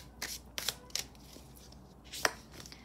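Tarot cards are shuffled by hand in several short riffling bursts with brief pauses between them, close and crisp in a quiet room.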